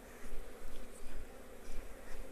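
Honey bees swarm around an opened wooden hive during honey harvesting, a steady close buzzing drone that swells and dips as individual insects pass near, with no talking.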